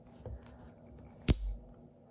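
A mechanical pencil squeezed in a clamp gives one sharp, loud crack partway through, followed by a brief crunching thud, after a faint softer creak near the start.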